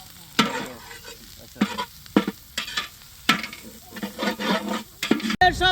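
Masala of chili powder, turmeric and salt being stirred and sautéed with quail eggs in a pan for a village feast: steady sizzling broken by repeated loud scraping stirs at an irregular rhythm, close up.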